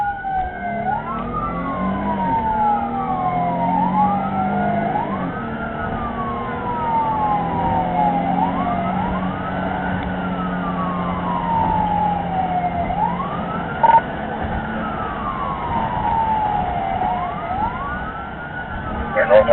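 An ambulance siren wails in repeated rising and falling sweeps during a police pursuit, steady and fairly prominent over road and engine noise, with radio chatter faintly underneath.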